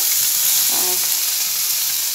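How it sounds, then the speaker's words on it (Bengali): Fish frying in a pan in a home kitchen, a steady loud sizzle and hiss of hot oil filling the whole stretch, with a brief clink of stirring partway through and no talking. "এই যে দেওরের জন্য মাছটা ভাজা করছে"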